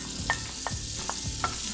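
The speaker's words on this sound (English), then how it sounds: "saute for just about 30 seconds. You don't want your garlic to burn." Garlic sautés in butter with a steady, crackling sizzle close by, punctuated by four or five stirring scrapes at a slow rhythm, no voices.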